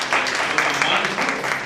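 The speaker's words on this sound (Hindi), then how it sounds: "छाया जी के लिए पर तालियां बजाए।" Audience applause for a poet at a Hindi literary gathering, a steady crowd clapping that stays fairly loud throughout.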